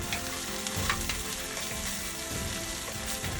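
Chopped mushrooms, thyme and tomato paste sizzle in a hot pan for beef rib pappardelle, a dense, steady crackling hiss that fills the clip with light scraping of stirring underneath.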